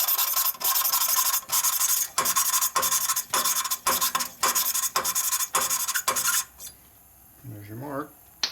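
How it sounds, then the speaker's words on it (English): Valve on a 2001 Indian Scout 88ci big-bore engine lapped against its seat with lapping compound, a gritty rasping rub repeated in about a dozen quick back-and-forth strokes, then stopping as a voice begins. "I just put lapping compound on this."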